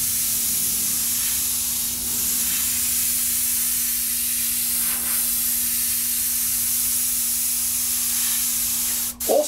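An airbrush sprays paint onto Kawasaki and Bimota motorcycle parts with a steady, even hiss of air and a faint constant hum underneath, close by and uninterrupted until a brief clatter at the end.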